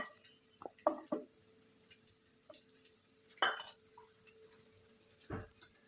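Butter cubes dropping into a hot pan for a bread pudding, faint quiet sizzling broken by a few distinct clinks and scraping stirs, sparse and close, with no voices.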